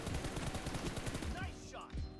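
Rapid automatic gunfire in a PUBG Mobile team deathmatch, a dense burst of fast rattling shots that stops abruptly near the end, with a brief voice afterward.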